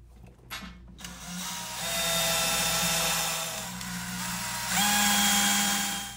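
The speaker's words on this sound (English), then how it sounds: "you're going to put the screws in around the perimeter" Screws driven by a power drill around the perimeter of a small chicken plucker drum during assembly, a close, loud continuous whine that rises and dips as each screw goes in.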